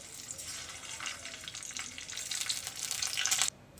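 Refined oil heats in a kadai for chana dal tadka, giving a soft, continuous hiss that builds gradually before cutting off abruptly near the end.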